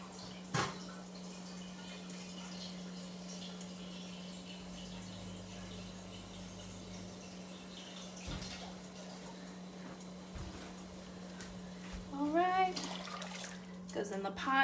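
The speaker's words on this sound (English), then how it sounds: "let me replenish some of my pasta water because it evaporated" Water runs and trickles into a cooking pot to top up evaporated pasta water in a home kitchen, softly under a steady hum, with a few clinks and a voice near the end.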